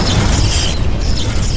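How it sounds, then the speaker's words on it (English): A loud, sustained explosion sound effect with a deep rumbling boom and crackling roar that fills the whole moment, no voice over it. "With a single devastating explosion, Xiolong obliterated the organization's leader"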